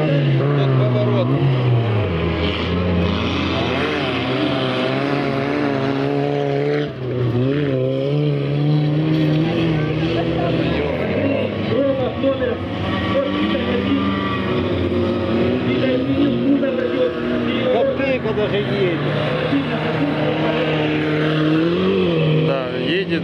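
Several cars, among them a VAZ-2101 Kopeyka, race in a survival race, engines droning and revving steadily for a long stretch. The mixed engine noise is loud and continuous, and a commentator talks over it.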